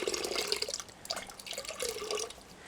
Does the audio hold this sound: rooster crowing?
no